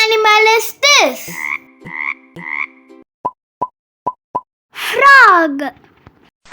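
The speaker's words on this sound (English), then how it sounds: "Frog!" Between bursts of a voice, a frog croaks in a short series of five or six sharp, evenly spaced, clipped calls, loud and close, as part of a guess-the-animal-sound game.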